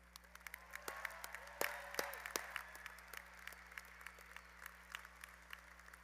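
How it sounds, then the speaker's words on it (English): Scattered applause from a college commencement audience, fairly faint and distant, with sparse individual claps popping out over a steady hall murmur, building briefly and then thinning out. "let's welcome all of them and give them a round of applause"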